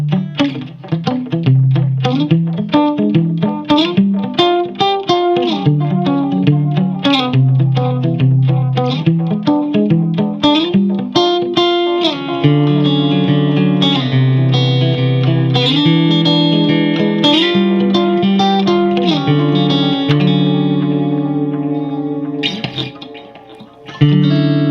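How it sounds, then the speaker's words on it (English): Ernie Ball Majesty electric guitar played through time-based effects such as echo, chorus and reverb with some distortion, ringing out sustained chords and picked progressive lines continuously and loudly, with no talking. "I think that sounds really great when you maybe add maybe some more like time-based effects"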